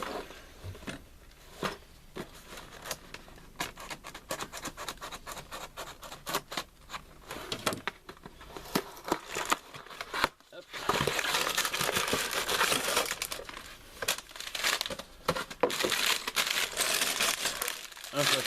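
Plastic bags and packaging from a 2016 LEGO Ninjago motorcycle chase set, number 70600, crinkle and rustle close by in irregular bursts, growing louder and denser toward the end, with a voice speaking at times.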